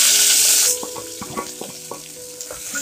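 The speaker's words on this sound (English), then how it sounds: "And fry well." Chopped onion and green chilies hit hot oil in a pan for a spicy Andhra chicken curry, opening with a loud burst of sizzling that settles into softer frying with clinks of stirring.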